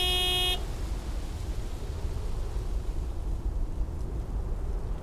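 A big white delivery truck in a cozy video game gives one short, loud honk of its horn right at the start, then a steady low engine and road rumble carries on alone.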